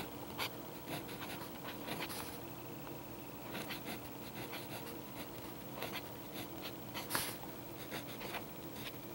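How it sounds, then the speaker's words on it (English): A Lamy pen with Noodler's Blue/Black ink writes a phrase on paper, giving close, soft, steady scratching with brief stroke bursts throughout, and nobody speaks. "let's go ahead and write that same phrase, but with the Lammy"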